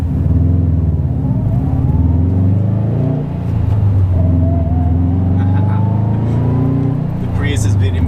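A 2018-2020 Subaru STi engine with a Cobb Stage 1 short shifter pulls hard, a loud close rumbling drone climbing through the revs with a shift in the middle, while a voice talks over it.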